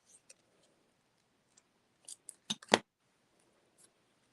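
Scissors trim through packing tape in a few crisp snips close to the mic, with two sharp cuts near the middle and quieter clicks before and after in an otherwise quiet room.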